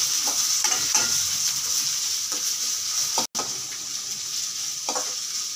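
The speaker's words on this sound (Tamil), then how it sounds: "வெங்காயம் நல்லா வதங்கணும்." Steady sizzling of onions frying in a pan, with occasional stirring scrapes and a brief cut in the sound partway through.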